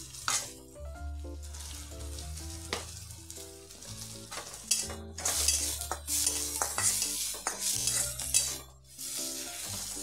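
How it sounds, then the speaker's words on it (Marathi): Onion sizzles steadily in oil while a spoon stirs and scrapes the pan, with clinks of metal against metal, close and continuous. "थोडा हे कांदा असं परतून झाला"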